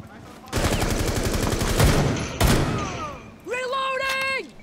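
Rapid bursts of automatic gunfire in Rainbow Six Siege, loud and close, firing at a bomb during a terrorist hunt, with a pause between two long volleys and a sharp electronic tone at the end.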